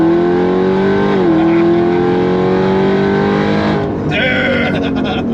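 A 1200 hp Jeep Trackhawk engine roars loud and close, its pitch holding steady then dipping and rising as it revs through a downshift, with a brief clatter of noise near the end.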